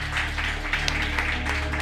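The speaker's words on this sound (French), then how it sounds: "je vous demande de l'applaudir" Audience applause at a comedy stage show, a short, steady patter of many hands clapping, close and fairly loud throughout.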